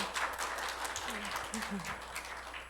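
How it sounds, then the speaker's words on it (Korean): An audience applauds a lecturer at the close of a special lecture on climate-crisis environmental education, a soft, fairly distant patter of clapping with a faint voice murmuring underneath. "좋은 강의 해주신 이동호 대표님께 다시 한번 큰 박수 부탁드립니다"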